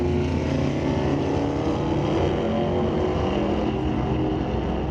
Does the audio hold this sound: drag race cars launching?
yes